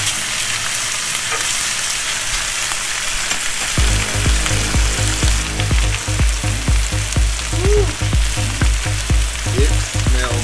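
Sous vide steaks searing in a hot pan: after a quieter start, a loud steady sizzle of frying builds from about four seconds, with repeated soft clanks and scrapes as the meat is moved and stirred, close and continuous.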